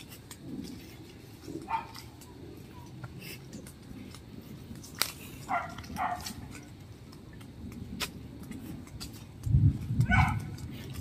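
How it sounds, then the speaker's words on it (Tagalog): A dog whimpers and whines in short, scattered bursts against a quiet background, with a few soft thumps and rustles between the cries. "Naiyak yung aso ko dahil hindi makatalon."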